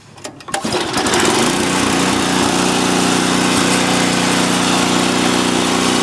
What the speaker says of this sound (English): Let's see if this thing starts up with the choke off on here right now.